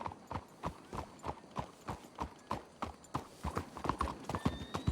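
Horse hooves clip-clop in a steady walking rhythm in the video game Red Dead Redemption 2, several horses moving together close by, with a faint tonal sound near the end.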